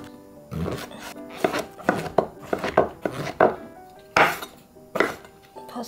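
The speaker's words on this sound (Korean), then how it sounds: "버섯을 길게 썰었죠?" A knife chops king oyster mushrooms into long strips on a cutting board, with a series of sharp, irregular knocks, some close together and some spaced apart, loud and close with no talking.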